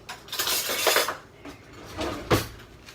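A metal spoon pulled from a kitchen drawer, with clinking cutlery and a rattling drawer in two short bursts, close and fairly loud, no talk.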